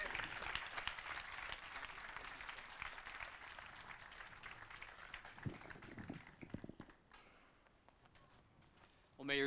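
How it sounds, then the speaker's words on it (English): A crowd at an outdoor Memorial Day ceremony in Moreno Valley applauds a Major General, a dense clatter of hands that gradually thins out and fades, with scattered voices near the end. "Let's give him a round of applause."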